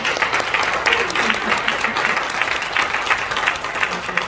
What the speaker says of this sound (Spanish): Les pido un aplauso para él.